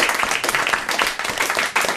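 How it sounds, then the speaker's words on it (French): Dense, steady studio audience applause on a French radio-TV show, cheering a quiz winner; brief and continuous, heard alone without talk. "On peut d'autant plus applaudir Marie-Anne de la Chapelle sur Erdre."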